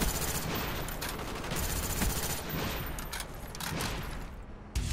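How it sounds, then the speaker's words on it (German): Dense, sustained gunfire from the video game Black Ops: rapid overlapping bursts and automatic fire rattle loudly and continuously, with a brief lull near the end. "Ich schieße ihn die ganze Zeit an"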